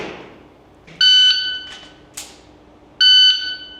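Two electronic shot timer beeps sound during a firearm ready-up drill, each a steady tone close to the mic lasting about a third of a second, separated by roughly two seconds of quiet room noise and a faint thump.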